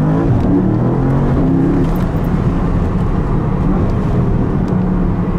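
A 680 hp Porsche Panamera Turbo S with a PDK gearbox launching at full throttle from first gear around 20 km/h, a loud continuous engine roar heard from inside the car, sustained and dense throughout.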